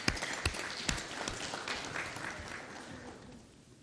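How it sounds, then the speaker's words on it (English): Warm applause from an audience at a university winter graduation ceremony honouring 28 doctoral graduates, dense clapping that starts strong and slowly thins out over a few seconds. "give them a round of applause"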